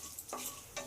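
Cumin seeds spluttering in hot oil, a steady close sizzle with two brief bursts of crackle and a stirring scrape.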